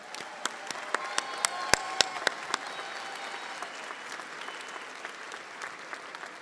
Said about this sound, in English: Please join me in applauding these stellar scholars.